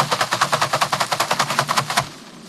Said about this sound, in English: The first technique I use is to bang it against a garbage can.